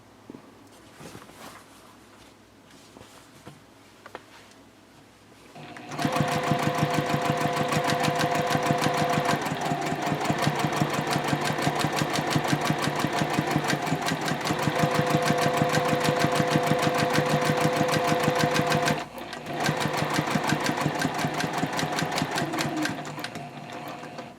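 A sewing machine stitches a Betty Bowler bag, its fast even needle rattle running loud and close for most of the stretch after a quiet start, with one short pause near the end.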